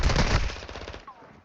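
A short, rapid burst of automatic gunfire from a video game shootout. It is loud at first, then quickly decays into a fading rattle.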